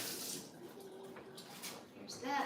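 Hands being rinsed under a running tap, a soft, close splash and trickle of water with faint clinks and shifting spatter, quiet and short.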